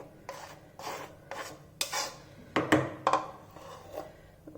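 Small spatula scraping and stirring eggless chocolate cake batter with flour and soda in a bowl, a series of rhythmic rasping strokes, close and fairly loud, with no voices.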